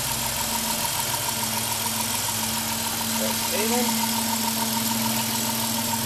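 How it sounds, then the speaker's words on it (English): The 3.3-litre V6 of a 2002 Dodge Caravan minivan idles with a steady, low rumble, continuous without revving, with a faint hum and brief faint sounds passing over it. "Very good engine. Very nice engine."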